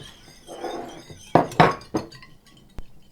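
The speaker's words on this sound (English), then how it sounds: "you're going to whisk it until it blends really" Golden milk mix being whisked in a glass, with a few sharp clinks and knocks against the glass and a brief swirl, close and intermittent, with no speech.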